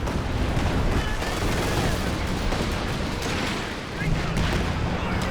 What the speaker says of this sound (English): Allies laying on the artillery.